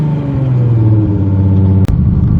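A Nissan R32 GT-R, drive-by-wire with a Nissan 350Z pedal, runs close and loud with a deep steady rumble and slight revving, one sharp click partway through, with no talk over it.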